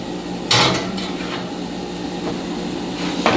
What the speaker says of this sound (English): It's time to get the salmon out of the oven.